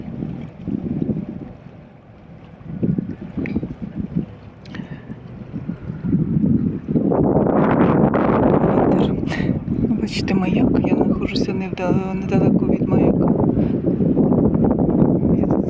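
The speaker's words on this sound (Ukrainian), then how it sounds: "Надіюсь, що буде не так багато цих звукових перешкод." Strong wind buffeting the microphone with deep rumbling gusts that grow louder in the second half, a voice partly audible underneath.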